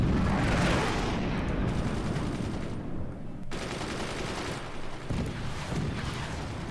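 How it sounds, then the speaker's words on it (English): Six ballistic missiles launch together in the Forts strategy game, a dense, rumbling barrage of blasts rolling on loud and continuous, with renewed bursts near the end. "Six ballistic missiles all firing at the same time."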